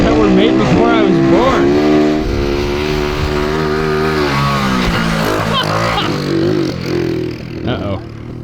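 A barn-find 1979 Honda Trail 90 motorcycle, on tires older than its rider and running low on fuel, idles and revs steadily with rising and falling engine tones, while people talk over it throughout.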